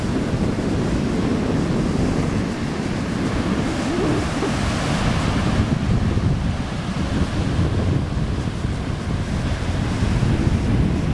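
Steady surf rolling onto an Outer Banks beach the morning after Hurricane Irene, with wind buffeting the microphone, a constant broadband wash at even loudness throughout and no voices.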